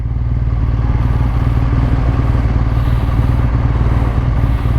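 A 2017 BMW R1200 GS K51 adventure motorcycle with its 1170 cc boxer engine, ridden on the road, gives a loud, steady throbbing drone with rattling clatter and wind, no speech over it.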